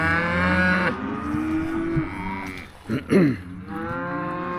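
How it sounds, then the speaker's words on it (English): Calves and cows bellowing in a yard, several long loud moos overlapping and following one another at close range, with a short pause in the middle. "So we got a couple of calves in here that are bellering, and we got a couple of cows that are bellering."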